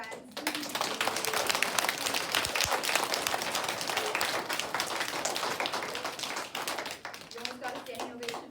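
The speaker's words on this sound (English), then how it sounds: "Oh, let's do a bigger round of applause than that" A crowd of parents and young children claps loudly at a lower-grades school awards assembly, a dense, continuous round of applause that holds steady before tapering slightly near the end.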